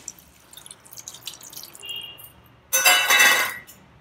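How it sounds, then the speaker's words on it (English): Tamarind water poured into a cooking pot for sambar, a few light drips and clinks of the pot, then a short loud splashing pour lasting under a second, no talk. "Next add the tamarind water to this."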